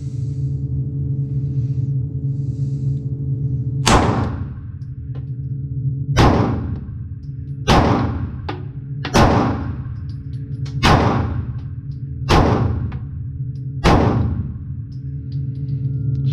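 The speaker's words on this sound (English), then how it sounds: "Shot it a few more times than I was expecting to." Eight sharp pistol shots from a Ruger Security 9 Compact fitted with a red dot sight, fired at short range at a target, spaced irregularly about one to two seconds apart over a steady low background hum.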